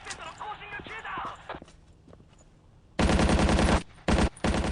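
Rapid machine-gun fire bursts out loudly in Battlefield 1942, aimed at infantry, following a stretch of someone talking; the rattling shots come in two close bursts separated by a brief pause.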